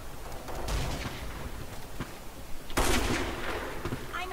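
Gunfire from the online shooter Black Squad, with a burst of shots near the start and a second, louder and denser volley late in the clip, over a steady bed of game background noise.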